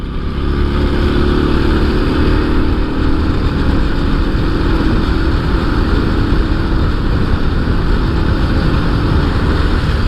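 Motorcycle riding through empty Dhaka streets on Eid ul-Fitr day, a steady, loud engine drone and road rumble sustained without a break, no voices over it.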